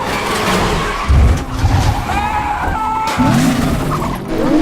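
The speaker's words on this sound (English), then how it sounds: "or a vehicle chase scene." Vehicle chase scene from an action film: engines roar and tires skid amid crashing, shattering impacts, loud and busy with overlapping effects.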